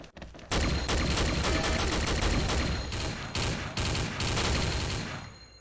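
Diamond Dust-Galaxy assault rifle in the video game XSHOT fires sustained loud automatic bursts with brief pauses between volleys, close and dominant, with no talking.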